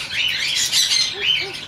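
A young child imitates a chicken with a run of high, squawky, bird-like calls, close and fairly loud, with a couple of brief lower squeaks near the end.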